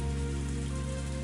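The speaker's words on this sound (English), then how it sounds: "Raindrops pelted my face without mercy" Rain pours in the visual novel game Higurashi When They Cry Hou, a dense, steady wash of falling water with a low rumbling body, close and continuous, with no voices.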